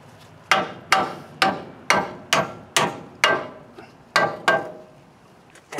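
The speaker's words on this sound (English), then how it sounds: "Hammer action here." Hammer tapping front end parts into a 1976 GMC Motorhome, nine sharp metallic strikes at a steady rhythm, close and loud with short ringing decays.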